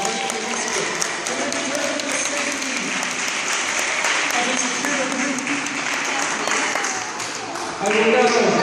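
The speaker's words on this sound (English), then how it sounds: "Please, a warm round of applause." A crowd at a natural history museum gives the professor a steady round of applause, with voices and chatter mixed into the clapping throughout.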